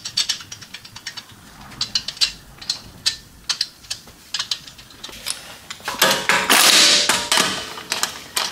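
A ratchet wrench snugs up the lug nuts on a rear wheel of a Mazda CX-9 after a brake pad and rotor job, giving repeated bursts of close, crisp clicking with brief pauses, ending in a louder, longer run of ratcheting.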